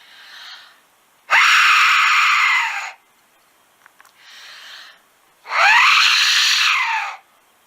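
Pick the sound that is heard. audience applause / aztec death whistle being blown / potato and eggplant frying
aztec death whistle being blown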